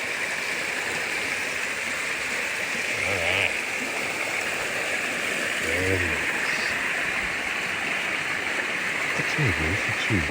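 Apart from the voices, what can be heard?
creek flowing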